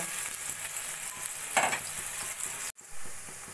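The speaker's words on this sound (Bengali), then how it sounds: "পেঁয়াজটা একটু আমি হালকা সোনালি করে ভেজে নেব।" Thinly sliced large onion frying in oil until light golden for a rohu fish curry with sesame and nut paste, a steady close sizzle with a brief louder burst of stirring before a short cut.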